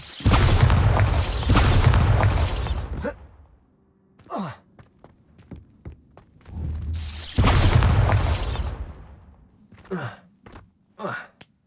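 A Bombarda blasting spell from Hogwarts Legacy detonates as two loud, broad booming bursts a few seconds apart, each followed by quieter thuds, clicks and rumbling debris.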